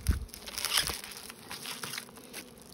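Honeybees buzzing as a hive is opened and smoked, a close, steady droning hum with light crinkling and tapping handling noises over it.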